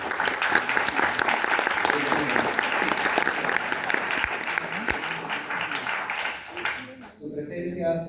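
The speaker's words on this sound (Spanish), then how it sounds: "Un aplauso para ellos." An audience at the Escena Sur 2025 event applauds in a steady round of dense clapping for several seconds, with voices mixed in. The clapping thins out near the end.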